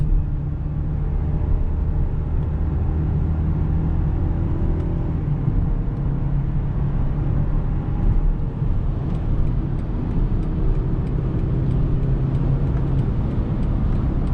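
A 2022 BMW X3 compact luxury SUV cruises at highway speed, heard from inside as a steady, smooth low rumble of engine and road noise with no voices.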